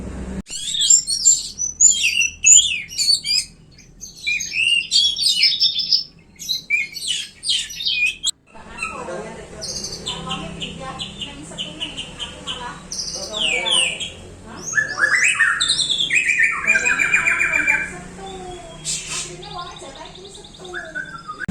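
A young forest-caught white-rumped shama (murai batu) sings bright, rapid whistled phrases and chirps, loud and close, in bursts throughout, with someone talking in between and over parts of the song.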